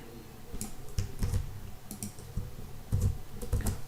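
Someone types on a computer keyboard while writing JavaScript code. Soft, close key clicks come in small irregular clusters over a quiet background.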